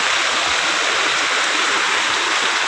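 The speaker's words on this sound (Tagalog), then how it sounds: "Pumapasok yung tubig doon." Floodwater rushes into a house during a typhoon, a steady, loud broadband roar of fast-moving water with gurgling, continuous throughout and close by, with no voices.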